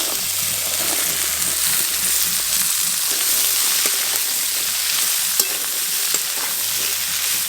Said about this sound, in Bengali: সব একসঙ্গে ভেজে নেব।